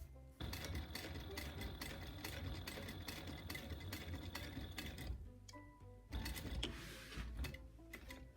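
A sewing machine runs close by, stitching appliqué fabric in a long continuous burst of rapid mechanical clatter, pausing briefly, then starting again for a shorter run, with no talking.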